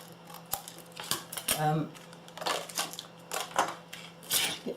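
Scissors snipping through card for a handmade rose-under-dome card, a series of crisp close clicks and short slicing strokes in an uneven rhythm, with a voice talking in between.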